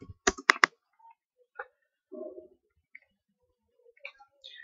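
Computer keyboard keys being tapped while a web address is entered, a few sharp close clicks at the start followed by sparse, faint taps and small desk noises in a quiet room.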